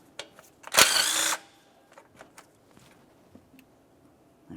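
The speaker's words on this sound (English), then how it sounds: "We'll remove that mounting nut." A power tool whirs in one short burst of about half a second as a 14mm mounting nut comes off a bracket on a 1994-2002 Dodge Ram 2500, followed by faint scattered clicks and taps of metal parts.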